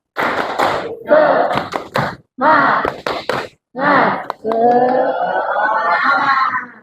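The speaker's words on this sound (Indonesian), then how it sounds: "Tepuk semangat" A classroom does the 'tepuk semangat' clapping chant, with bursts of sharp, close hand claps in a set pattern alternating with voices chanting, and a longer stretch of talk at the end.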